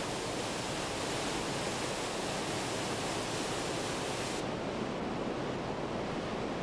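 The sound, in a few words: waterfall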